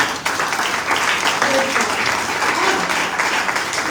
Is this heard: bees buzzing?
no